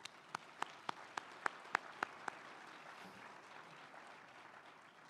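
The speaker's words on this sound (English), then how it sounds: "Let's give them a round of applause" Faint, scattered claps at a ski area executives' summit after sponsors are thanked: about nine distinct handclaps in a quick, regular rhythm, fairly distant, then fading into quiet room noise.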